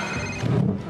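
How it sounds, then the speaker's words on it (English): A phone chimes with a short text message alert, loud and close, ringing out alone for under a second in a quiet room. "I'm getting a text message."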